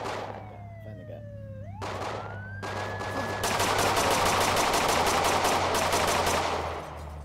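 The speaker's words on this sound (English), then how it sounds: "More shots." Gunfire in a police use-of-force scene, a burst of rapid, evenly spaced shots that goes on for several seconds, mixed with a wailing siren and engine noise at moderate distance.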